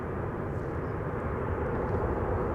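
Boeing 747-200 airliner passing by, a steady broadband jet roar that stays loud and even throughout, with no voices over it.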